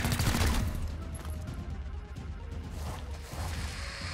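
Sniper rifle shot in the game XCOM Chimera Squad, a heavy boom at the start followed by rumbling impact and debris noise that fades under ongoing game sound.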